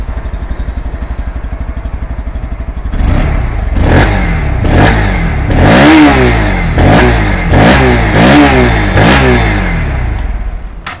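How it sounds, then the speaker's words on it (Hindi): Bajaj Pulsar NS160 motorcycle idling steadily, then revved repeatedly: about eight sharp throttle blips with the engine and exhaust rising and falling in a regular rhythm, loud and close, with no talking. "तो गाइज अभी जस्ट आपने NS160 का इंजन सुना"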